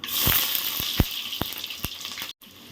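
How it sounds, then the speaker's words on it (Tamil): Mustard seeds crackle in hot oil, with several sharp pops scattered over a steady sizzle. Close and fairly loud. "இப்போ கடுகு நல்லா பொரியுது"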